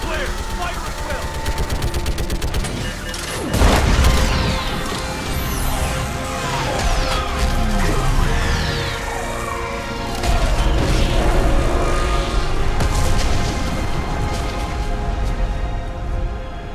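Orbital strike explosions hitting a Reaper in Mass Effect 3, heavy booming blasts and crashing impacts mixed with rapid gunfire and a continuous loud battle roar.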